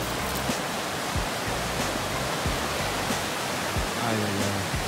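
A swollen river rushes past a riverside recreation area, giving a steady, dense roar of moving water that fills the whole stretch without a break. It sounds close and constant, with a faint voice briefly present underneath.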